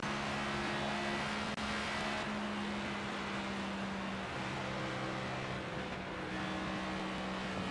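A NASCAR Cup race car accelerates at Texas in the racing game NASCAR 25, a steady loud engine drone with shifting pitch that holds throughout, close and continuous.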